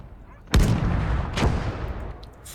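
Gunfire in the World War II strategy game Call to Arms: Gates of Hell, Eastern Front: a loud close gunshot or heavy blast, then a second report about a second later, each trailing into a rumbling tail over ongoing battle noise.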